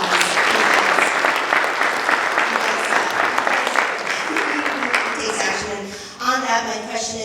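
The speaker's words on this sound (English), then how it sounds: "So I want to give you a big thank you and round of applause." Town hall audience bursts into steady applause that gradually thins out, then a voice begins speaking as the clapping dies away.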